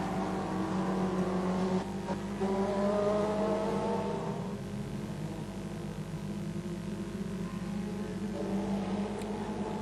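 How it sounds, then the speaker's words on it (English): Production sedan race cars circle Gympie Speedway, their engines droning loudly and continuously with rising and falling pitch as they pass through the corners. "Chris Wurr and Terry Lierenfeld battle out position number 2 around that top corner"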